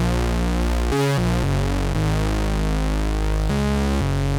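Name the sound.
compressed retro synthwave bass synth in Phase Plant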